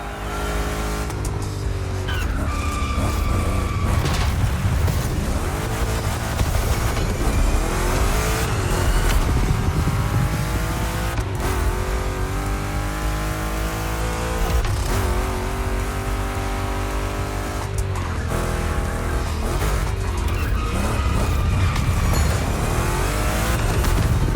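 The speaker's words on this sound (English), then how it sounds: "Two Chevys, two big blocks, but only one winner." Two big-block Chevrolets, a Camaro and a 3100 pickup, race in The Crew Motorfest, their engines roaring and revving continuously while tires squeal through turns, loud and close throughout.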